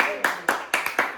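Children at a home devotional gathering for Sant Savata Maharaj clap five sharp, close claps in an uneven rhythm, with voices faintly behind them.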